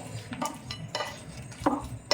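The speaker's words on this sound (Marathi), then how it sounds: "त्यामध्ये आपण फ्राय केलेले बैंगन टाकूया. त्याला पण आपण एकजीव करून घेऊयात." A spoon scrapes and knocks against a pot while fried brinjal is stirred into spicy masala, several distinct clinks and scrapes at irregular intervals, close and moderately loud.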